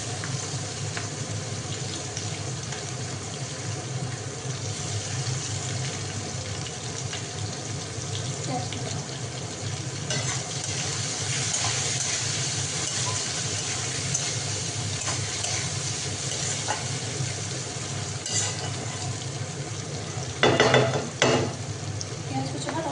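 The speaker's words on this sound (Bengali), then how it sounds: "এবার দিয়ে দেবো পেঁয়াজ কুচি," Chopped onion fries and sizzles in a pan with fried fish heads in a home kitchen, a steady crackling hiss with scraping stirring strokes throughout, plus a short clatter near the end.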